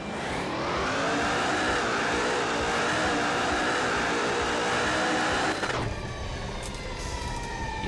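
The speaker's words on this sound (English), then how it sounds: "Incorporating rear end whine with the sound of sand and stone hitting the underside of the vehicle" In the video game Bounty Drag Racing, a sand drag car coasts with a loud, steady rear-end whine layered over a dense rush of sand and stone hitting its underside, and the tone shifts and thins near the end.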